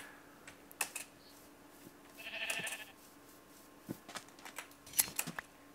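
Blocky video-game sheep bleat a few times, short nasal cries among scattered clicks and taps from a keyboard and mouse, with no one speaking.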